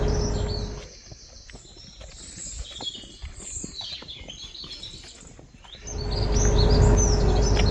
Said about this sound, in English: Oh my goodness, the most amazing bird song over there.